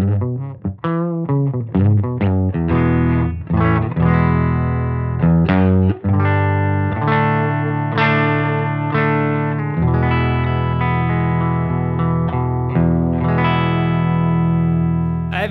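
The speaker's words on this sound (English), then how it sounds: "And I am running this Scythe Guitars OH20 into a Benson Amps Monarch Reverb." Electric guitar played through a Thorpy FX The Dane overdrive pedal, a Scythe Guitars OH20 with single coils into a Benson Amps Monarch Reverb amp: loud, sustained driven chords and picked notes, strummed and ringing out alone without talk.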